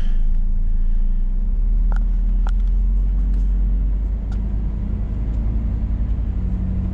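A Scania S500 truck with 400,000 km on it pulls away, its engine a steady, loud low rumble throughout, with a few faint clicks and knocks on top.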